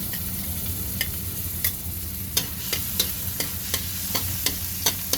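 Garlic frying in a pan gives a steady, dense sizzle, broken every half second or so by light clicks of a spatula stirring and scraping, with no one talking.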